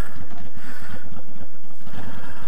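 Honda Shadow Aero 750 motorcycle engine while riding, a loud, close, steady rumbling putter with rapid low pulses and heavy wind buffeting over it.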